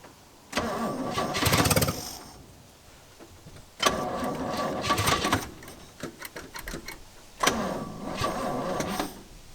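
An old Chevy C10 that sat for decades cranks over on a first start attempt in three separate bursts of loud, rapid starter churning, each stopping without the engine catching.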